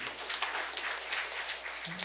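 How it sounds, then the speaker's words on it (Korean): A church congregation applauds steadily during a worship service, a dense wash of clapping that stays even in loudness throughout, slightly distant. "박수 한번 더 치세요."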